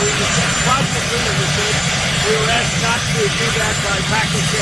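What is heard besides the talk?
helicopter noise in the background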